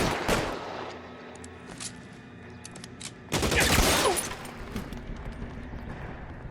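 Gunfire in the video game L.A. Noire, loud bursts of shots in a rapid fusillade, with a sharp opening volley, scattered single cracks, then a heavier sustained barrage that tails off into intermittent shots.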